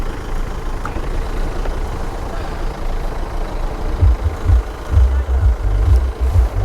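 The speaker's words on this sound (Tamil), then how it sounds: "அவ்வளோ தூரம் டிராஃபிக் இருக்குது" Heavy road traffic rumbles steadily nearby, with deep idling truck engines throbbing louder toward the end.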